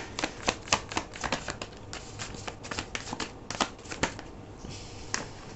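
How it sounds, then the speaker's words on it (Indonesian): A deck of tarot cards is shuffled up close: a run of crisp, irregular card snaps and flutters, with soft sliding between them. "aku akan ambil total 5 kartu dan kita juga akan lihat bottom of the deck-nya ya"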